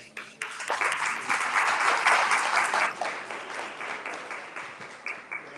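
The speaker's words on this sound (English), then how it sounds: "You can give yourselves an applause." Applause at a black-and-white charity gala, given for the event's sponsors: a dense, steady wash of many hands clapping that swells to a peak midway and then slowly thins out, heard alone with no talking.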